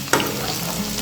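A spoon stirs half a kilo of carrots with softened onions frying in a pan for a Telugu carrot coconut fry, giving one scrape followed by a steady sizzle.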